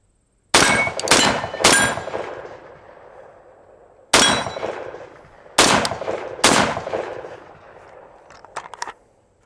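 Sharp rifle gunshots from a rifle fitted with a Midwest Industries 3.5 lb trigger crack out at close range, about half a dozen loud reports in an uneven rhythm, some in quick pairs, each followed by a ringing echo tail.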